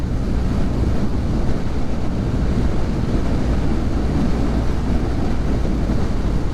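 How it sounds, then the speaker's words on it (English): Heavy rain pelts down outdoors in miserable weather, a dense, steady roar with a gusty, wind-like rumble underneath, loud and unbroken throughout with no voices. "It's actually horrible out now, it really is, really pelting down"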